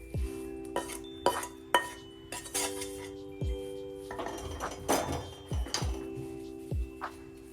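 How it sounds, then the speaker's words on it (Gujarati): A gundar sukhdi mixture with grated coconut is spread and levelled into an oil-greased steel plate, giving scattered clinks, taps and scrapes at close range over a steady musical background. "થાળીને તેલથી ગ્રીસ કરી લીધી છે હવે બધું મિશ્રણ તેમાં પાથરી દઈશું"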